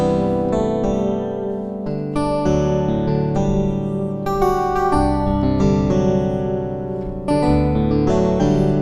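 Mellow synthesized electric piano chords from Logic's Faded Keys sound, played steadily, notes struck in a loose rhythm and sustained with a shimmering chorus-like effect, loud and close with no talking.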